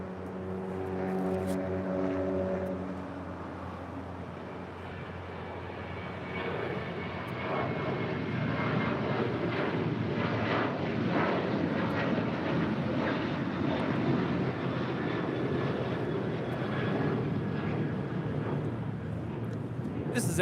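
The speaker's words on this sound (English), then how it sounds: "This is Emirates Flight 216 Super departing to Dubai on a 6-year-old A380" An Emirates A380, six years old and bound for Dubai as flight 216, rolls down runway 24 left at LAX, jet engines rising to a broad sustained roar after a brief earlier tonal hum, fairly distant and steady.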